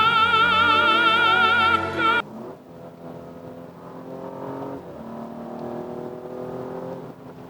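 BMW M235i with a 3-litre engine revving hard while driving, a loud rising tone that drops sharply on a gear change, then climbs again through further pulls, heard from inside the car.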